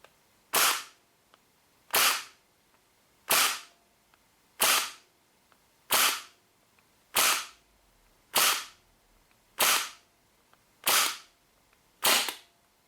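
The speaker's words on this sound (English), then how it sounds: "So let's get this through the chrono." A WE P90 gas airsoft gun fires ten evenly spaced shots through a chronograph, each a sharp, loud crack with a short tail, about one per second with quiet between them.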